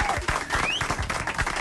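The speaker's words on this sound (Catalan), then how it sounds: "Un aplaudiment." Studio audience applauding during a Catalan radio comedy show, a steady burst of clapping throughout, fairly close and lively with a faint voice briefly rising over it.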